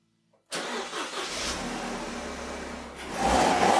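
A Mercedes-Benz SLK 200 Kompressor, freshly fitted with an enlarged supercharger pulley and stage 2 software, cranks and fires after a moment of silence, then settles into a steady close idle before the revs rise slightly.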